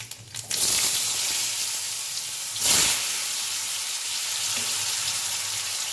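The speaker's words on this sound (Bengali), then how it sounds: "কড়াতে কালো জিরে ফোড়ন দিচ্ছি, এবার আলুগুলো দেবো।" Potatoes go into hot oil already tempered with black cumin, bursting into a loud sizzle with a second surge of hissing spray partway through, then settling into a steady, even fry with no voices.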